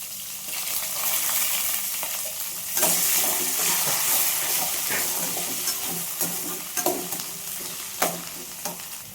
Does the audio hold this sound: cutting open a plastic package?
no